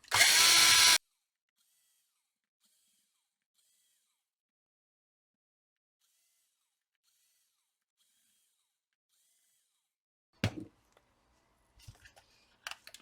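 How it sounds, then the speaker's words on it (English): A cordless power drill whirs loudly for about a second while backing screws out of a Parkside battery pack, then silence follows with a few faint clicks and handling noises near the end. "We're gonna remove all the screws first."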